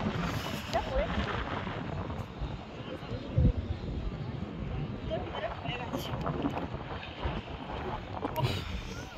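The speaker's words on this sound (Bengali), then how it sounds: "বিশাল হাওয়া দিচ্ছে।" Strong wind buffets and roars continuously in Baisaran valley, Pahalgam, Kashmir, a broad rumbling rush with gusty swells, loud and close, with no clear voices.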